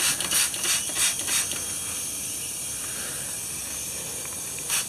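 Steady broadband hiss of compressed air escaping from a leaking air line on a 1976 fire truck with a Detroit Diesel engine, close and continuous, with a few soft knocks and rubbing sounds early on.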